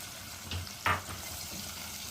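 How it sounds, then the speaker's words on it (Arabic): Drained chard stems dropped onto garlic in a pan and stirred, giving a brief burst of sizzling with a sharper spike of frying near the middle, then a steady low crackle. "بعد ما تصفى من الميه خالص هنزل بيه هنا على الثوم واقلبه بقى"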